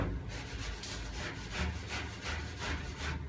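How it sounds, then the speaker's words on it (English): Someone is hand-rubbing down stone chip coating on a classic Mini. The steady, rhythmic rasping strokes repeat about every half second, close and fairly even in loudness, with no voices. "just rub it down a little bit where it hasn't stuck"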